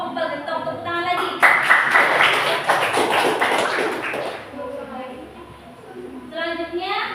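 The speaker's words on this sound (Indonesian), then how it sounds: "Tepuk tangan lagi." Classroom applause breaks out, a dense burst of many hands clapping that swells for a few seconds and fades, framed by a teacher talking before and after.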